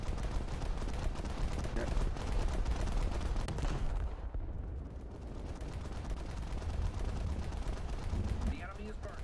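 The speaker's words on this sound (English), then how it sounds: "A lot of small arms fire." Small arms fire crackles in World of Warships around warships such as HMS Hood, Kronshtadt and SMS Bayern. The rapid popping runs almost nonstop, briefly thins midway, and a voice speaks once.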